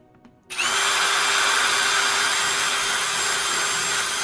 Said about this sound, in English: So let's say we want to test this drill bit.